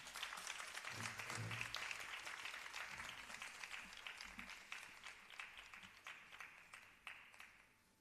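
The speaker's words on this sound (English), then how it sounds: "Let's have a huge round of applause for her." Audience applause for a Bharatanatyam dance teacher at an arangetram, a steady wash of many hands clapping that holds for the whole stretch and slowly fades toward the end.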